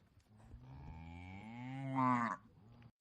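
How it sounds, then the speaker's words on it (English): A cow moos in one long, loud call that swells and peaks before cutting off, with no talk over it. "We found a cow."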